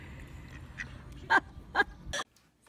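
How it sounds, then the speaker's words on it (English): A few ducks quack nearby, several short, separate calls spaced over a couple of seconds, moderately loud above a low outdoor murmur. "I'm just gonna give it to the duckies."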